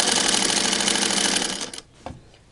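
A 1959 Singer Spartan sewing machine with a replacement motor and foot pedal runs at speed with a loud, dense mechanical whir, then winds down and stops, followed by a soft click.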